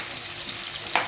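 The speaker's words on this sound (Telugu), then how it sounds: "ఇంకా ఆయిల్ హీట్ అయింది, పచ్చిమిర్చి, ఆనియన్స్ కొంచెం ఫ్రై అయ్యాక" Onions and green chillies fry in hot oil in a home kitchen, giving a steady, close sizzle with a brief louder crackle near the end and no talking.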